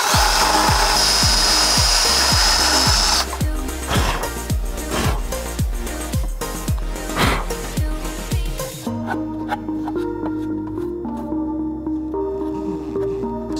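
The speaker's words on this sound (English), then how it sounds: "So just knocking the sharp edge off with a little sanding drum." A power sanding drum whirs against the edge of a car clutch master cylinder part, first in a harsh continuous grind, then in repeated short passes, ending in a quieter motor hum.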